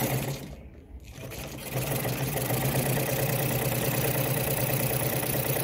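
A Kohler WZ automatic sewing machine stitching at close range, with a steady mechanical whir and hum that dips briefly near the start before running continuously and evenly.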